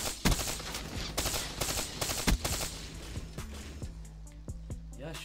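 Rapid gunfire from Black Ops 3 gameplay crackles in sharp bursts and single shots, close and punchy, with quieter shots trailing off toward the end.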